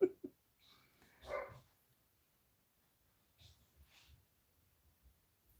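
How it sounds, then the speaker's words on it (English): A dog in the background of a house lets out a few short barks and whimpers, separated by quiet pauses and then softer scattered noises. "if you hear something strange in the background, it's my dog"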